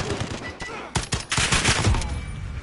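Pistol fire in a first-person shooter game, a quick string of loud cracking shots that bunch into a dense burst near the end, with some game noise mixed in and brief speech faintly underneath.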